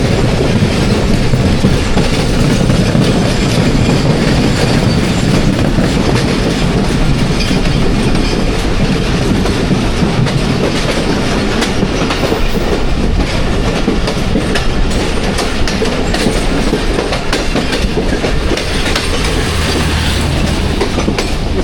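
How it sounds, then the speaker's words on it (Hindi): The 42 Down Karakoram Express pulls into Kotri Junction, close and loud, with continuous rolling wheel noise and rhythmic clickety-clack over rail joints. "42 डाउन कराक्रम एक्सप्रेस काफ़ी लेट चल रही है आज भी। कोटरी जंक्शन पहुंच गई है ट्रेन"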